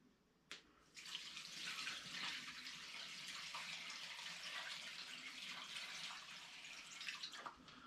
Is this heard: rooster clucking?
no